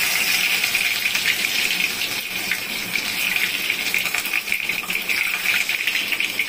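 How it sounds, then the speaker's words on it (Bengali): Garlic cloves go into very hot oil in a kadai for a kochur loti dish, giving a loud, continuous hissing sizzle that holds steady throughout with no speech. "তেল পুরো গরম হয়ে গেছে, তেল দিয়ে ধুয়ে উঠছে। এই অবস্থায় আমি এখন রসুনগুলো"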